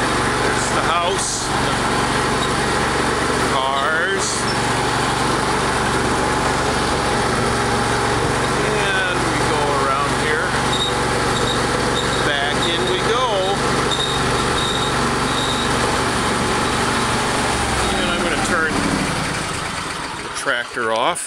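A farm tractor engine runs steadily at idle for about eighteen seconds, loud and close, then shuts down near the end.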